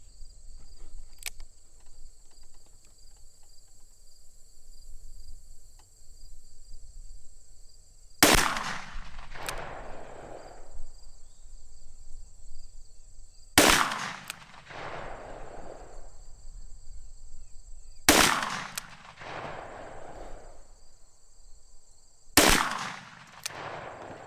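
A .44 Magnum revolver firing 240gr XTP rounds, a Rossi Ranch Hand, gives four loud, sharp shots spaced several seconds apart outdoors, each with a rumbling tail, over a steady background of chirping insects.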